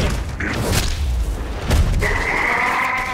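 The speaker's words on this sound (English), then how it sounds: "I'm going to use my superpowers to take them out with my bare hands" Heavy superpowered bare-hand blows land in Saints Row 4 over a dense, continuous game mix. Several booming thuds and whooshing impacts sit close and loud, with a sustained tonal effect rising near the end.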